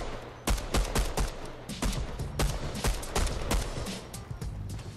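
Gunfire from a Fortnite Chapter 3 Season 1 match, loud sharp shots fired in irregular succession against busy game noise, close and punchy, with no talking.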